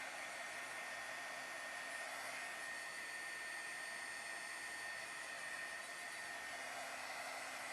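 A heat tool blows continuously to dry watercolor paint, giving a steady, loud whooshing hum that runs unbroken and unaccompanied by talk.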